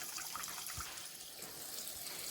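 Water rushes steadily from a Samsung American fridge freezer's new water filter into a mop bucket, a continuous close hiss and splash that holds even throughout with no break.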